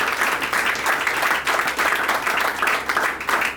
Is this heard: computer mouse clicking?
no